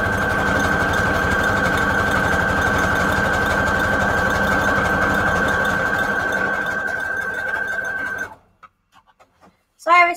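A sewing machine stitches junk journal pages with a steady, loud mechanical whir for about eight seconds, then stops abruptly, followed by a few faint clicks and a brief voice.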